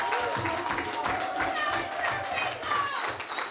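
Crowd applause and cheering at the opening of a transitional housing facility, clapping mixed with voices and murmur from a gathered audience, steady and moderately loud, with a voice talking underneath.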